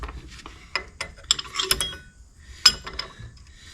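A ratchet tightens the front brake bolts on a 2015 Silverado, producing irregular bursts of close metallic clicks and clinks with short pauses between them and no voices.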